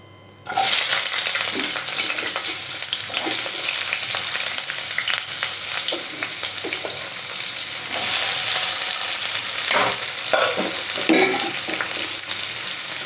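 Ingredients for a paneer dish fry in hot oil in a kadai, a loud steady sizzle running the whole clip after a sudden start, with scraping stir strokes breaking through now and then; no one talks.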